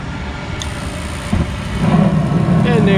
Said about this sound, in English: Blower's on, everything's working, looks good to me.